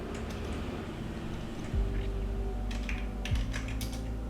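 Computer keyboard typing while writing an SQL date query, with steady clicking keystrokes close by and no talk.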